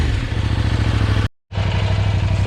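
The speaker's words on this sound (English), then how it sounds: "I really think the bike sounds awesome. Sounds really good for the KTM clone engine" A Kove 800X Pro motorcycle's KTM-clone engine idles close by with a steady, low, lumpy throb, cutting out briefly for a moment of silence before resuming.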